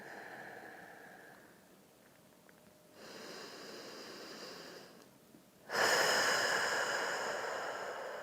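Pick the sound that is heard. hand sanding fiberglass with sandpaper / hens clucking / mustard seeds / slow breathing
slow breathing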